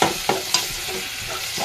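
Food stir-fried in a pan until golden, a close sizzle with three quick scraping strokes of a spatula at the start and softer stirring after, no voices.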